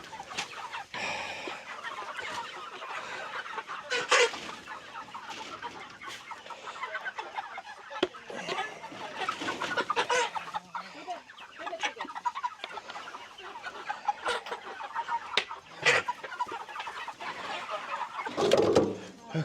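Meat chickens cluck and squawk in crates during loading for processing, irregular bursts of fowl calls close by, with people talking intermittently in the background.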